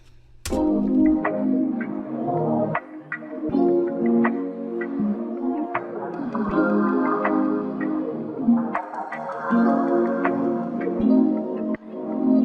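A mellow R&B groove plays alone: steady kick and snare pulses under warm chordal keys and layered melodic tones, moderately loud throughout.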